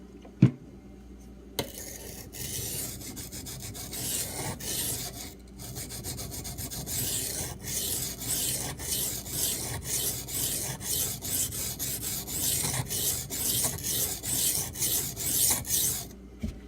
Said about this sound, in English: I'm going to try to break some of this burr off before I move to the next stone.